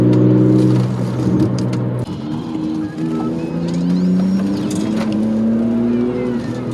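A BMW E46 car driving through curves and roundabouts, heard from inside as a loud steady engine drone whose pitch rises and falls with acceleration and gear changes, with road noise underneath.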